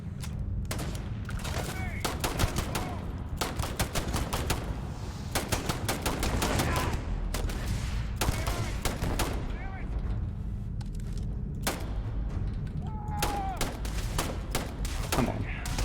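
Rapid bursts of gunfire from a Starfield firefight crackle almost nonstop, volleys and single shots clustering loud and close, with a voice talking over the fighting at moments.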